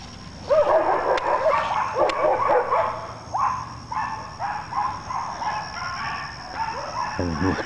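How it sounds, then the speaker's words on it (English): Several dogs bark and yip excitedly in a backyard garden, a rapid overlapping series of sharp barks from moderate distance that continues for several seconds, ending with a brief rustle. "those dogs are going crazy"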